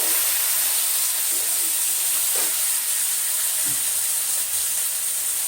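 Thin-sliced potatoes and green banana fry in oil with black cumin, giving a steady, close hiss of sizzling with a few faint stirring knocks underneath.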